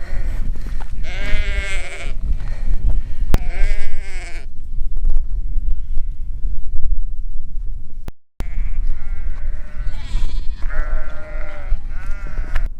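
Several sheep bleat loudly nearby in County Sligo, Ireland, in wavering, drawn-out calls, with quieter gaps and a brief dropout between bursts.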